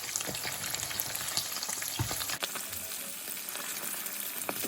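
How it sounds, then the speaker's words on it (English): Halloumi cheese sizzles and crackles steadily in a pan on very high flame, a close, continuous frying hiss with small pops and a brief stir partway through. "So they are frying beautifully on very high flame"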